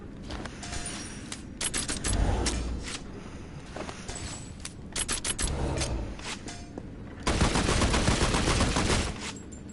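Several guns firing at once in the video game Hellsweeper, loud rapid bursts of automatic fire that stop and start again, ending in one long sustained volley, with clicking weapon mechanisms between bursts.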